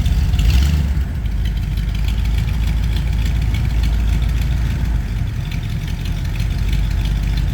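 Ford F100 truck engine idling on choke while warming up in cold weather, a loud steady low rumble with a brief rev near the start.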